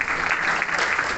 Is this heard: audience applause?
yes